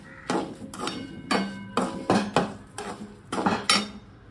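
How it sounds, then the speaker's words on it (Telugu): A spoon clanks and scrapes in a pan as pieces of raw mango pickle are mixed with chili powder and salt, in a series of sharp, rhythmic metallic knocks close by. "ఇదే మూకుల్లో చల్లగా అయిపోయిన దాంట్లో ఈ కారము, ఇందా కొలతతో పెట్టుకున్న ఉప్పు ఇవన్నీ వేసుకొని బాగా కలపాలి."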